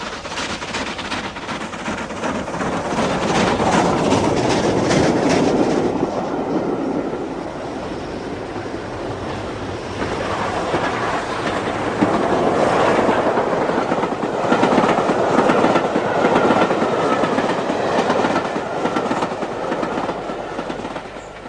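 A steam train rumbles steadily along the rails of the Settle & Carlisle line with rhythmic clickety-clack, swelling louder and easing off over about twenty seconds, no voices.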